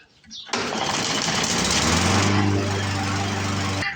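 A Poulan push lawn mower, once abandoned roadside and now with a repaired carburetor, cranks after brief quiet and catches into a loud, steady close-up running drone that holds to the end.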